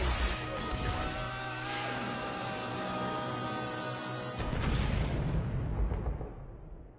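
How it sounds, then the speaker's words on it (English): Bazooka fired in a movie action scene: a dense, loud roar with tonal score over it, then a heavy, booming blast that swells and fades away. "Basically, the bazooka."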